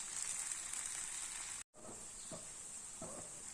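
Aval paniyaram batter cooking in a paniyaram pan gives a steady, close sizzle with soft hiss, broken by a brief dropout partway through and followed by a few faint taps.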